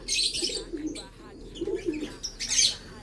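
Racing pigeons cooing close by in a loft, soft repeated low coos mixed with brief high chirps and a few rustles, in short overlapping bursts.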